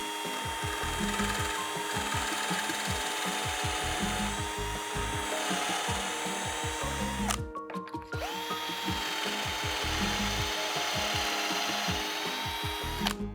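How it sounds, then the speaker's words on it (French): Drill boring a dowel-sized hole into a wooden board, with a depth stop fitted on the bit, giving a steady close whirring grind with rapid rattling pulses that halts briefly midway, then resumes. "je vais pouvoir percer au diamètre de mon tourillon"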